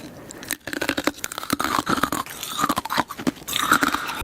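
Iceberg lettuce is crunched and chewed up close, a dense run of crisp, wet, irregular bites with no talking over it.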